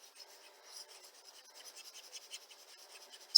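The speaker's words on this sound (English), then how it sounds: "Let me erase these dots." Dots being erased from a board during a maths lesson, a faint, close, rapid rubbing and scratching that continues steadily throughout with no speech.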